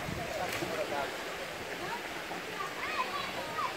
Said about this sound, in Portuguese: A água vem lá de cima do morro, ó.